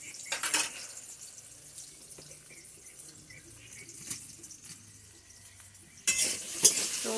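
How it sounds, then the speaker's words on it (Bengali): Greens with bori being fried and stirred in a pan give a quiet, low sizzle with scraping and clinking of the spatula, louder bursts of stirring at the start and the end. "তো এবার এটা আমি ভালো করে লাল লাল করে ভেজে নিই।"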